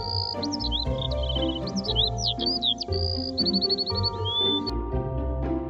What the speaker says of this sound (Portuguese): Bom trabalho. É um pássaro.